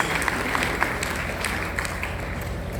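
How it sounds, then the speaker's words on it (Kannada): An audience claps together in agreement, a dense, even patter of many hands that holds steady for about three seconds with no voices over it. "ಚಪ್ಪಾಳೆ ಕಟ್ಟಿ ನಿಮ್ಮ ಒಪ್ಪಿಗೆಯನ್ನು ಸೂಚಿಸಿ"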